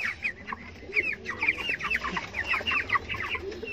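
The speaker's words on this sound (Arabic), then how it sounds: "بننقل الفراخ من المكان اللي هي فيه" Dense chorus of clucking from white broiler chickens packed in a poultry house, overlapping calls steady throughout with a low hum of farm activity beneath.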